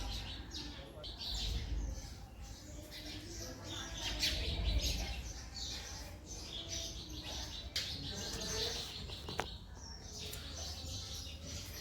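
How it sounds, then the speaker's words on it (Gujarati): Sparrows chirping around a house: faint, scattered chirps and tweets over a soft background hum. "ચકલીઓનો ચીચી અવાજ સાંભળી શકો છો।"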